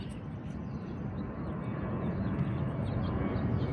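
Southwest Airlines Boeing 737-700 in Heart livery near a runway in San Diego, a steady jet engine roar that builds slightly over the few seconds, continuous and moderately loud with no clear voices.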